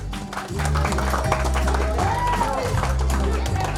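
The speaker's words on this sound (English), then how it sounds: "Big round of applause, everybody." Audience applause at the Instant Happiness 2022 event fills the room, steady and fairly loud, mixed with held musical tones and crowd noise throughout.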